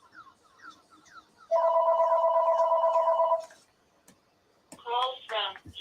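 A telephone rings in one steady, loud electronic burst lasting about two seconds, followed by brief chirping tones, while a quiet room sits in the background.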